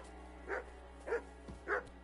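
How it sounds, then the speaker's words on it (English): A dog in the Kingdom Come: Deliverance II video game barks three times at an even pace, moderately close, over a low steady ambient hum. "No one wants to hear your barking."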